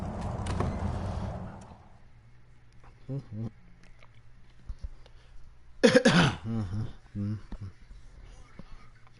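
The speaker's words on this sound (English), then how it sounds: "Oh crap, you can hear my coughs." A few short coughs and throat clearings break through a quiet stretch, with soft speech and faint background hum around them.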